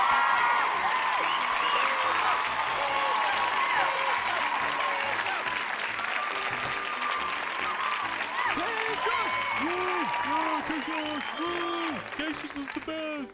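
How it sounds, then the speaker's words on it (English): Audience clapping for an anime review show, a sustained patter of applause running throughout while voices talk and laugh over it at close range. "Let's get some claps in the audience for Itzy saying sorry"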